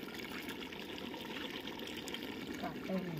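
Tap water trickles and splashes steadily while coriander leaves are rinsed, a soft continuous wash that runs throughout at moderate level.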